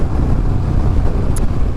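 Steady, heavy wind buffeting roars across a motorcycle rider's microphone behind a windscreen, a loud continuous low rush with engine noise blended in, no talking.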